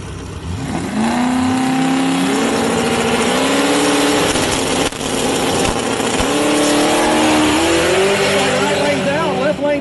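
Street-legal race cars accelerating hard in a final drag race, engines revving and climbing through gears loudly and continuously close by, with some voices faintly mixed in.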